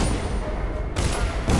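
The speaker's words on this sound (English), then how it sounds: "I can't tell if they're shooting me or someone else." Gunfire in the video game Dishonored: a dense, loud fusillade of shots runs continuously through the moment, with brief surges of noise.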